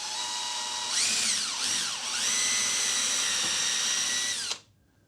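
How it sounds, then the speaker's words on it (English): A power drill bores into a hardened caulking tube nozzle clamped in a vise, a loud whine that spins up, dips and surges twice under load, then holds steady before cutting off abruptly. "Put it back in my vise. And then drill in."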